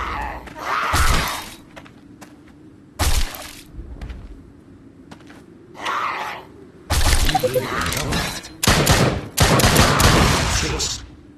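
Guns fire at zombies in the VR video game Drop Dead: Dual Strike, loud bursts of rapid shots and crashing impacts in separate clusters, separated by quieter gaps with a low ambient hum.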